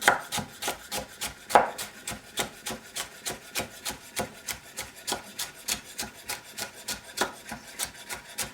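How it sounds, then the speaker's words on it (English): A knife chops a carrot into julienne matchsticks on a cutting board, with quick, even, close taps in a steady rhythm lasting throughout, clear and alone. "I'm going this way and cut it in matchstick or julienne style."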